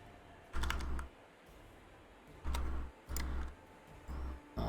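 Keys clack on a computer keyboard nearby in short bursts of rapid taps separated by brief pauses, against a quiet room hum.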